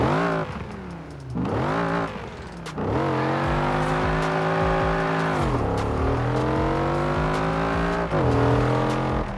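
A race car engine in the video game Forza Horizon 4 revs hard and repeatedly, pitch climbing then dropping with gear shifts, loud and close throughout with no talking.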